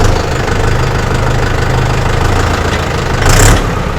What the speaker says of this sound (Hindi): तो चलिए ट्रैक्टर को स्टार्ट करके आपको इसका आवाज सुनाते हैं